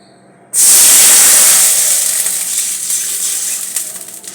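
Water poured into hot oil in a kadai after frying lentil fritters bursts into a loud, sharp sizzle that stays strong and hissing, slowly easing but never stopping.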